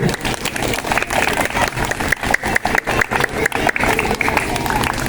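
Children and an audience at a school Christmas celebration in Thalassery clap together, a dense steady patter of many hands, loud and close throughout.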